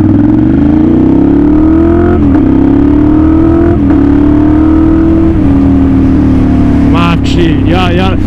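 A Ducati Monster 696 engine hums steadily while riding, its tone rising gradually and briefly dipping during gear changes. The sound is loud and close, with a voice briefly audible near the end.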